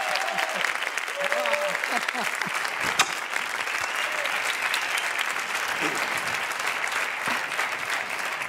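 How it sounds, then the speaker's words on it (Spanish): Sustained, dense applause from a studio audience at a Spanish quiz show, steady and loud throughout with faint voices mixed in underneath. "Un gran aplauso para el gran Pepín 3."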